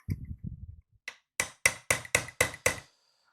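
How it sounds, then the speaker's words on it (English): A small hammer strikes a pin punch set against an airsoft gas block resting on a box, giving seven sharp metallic taps in a steady rhythm, close and loud, after some softer handling knocks. "Get my little hammer."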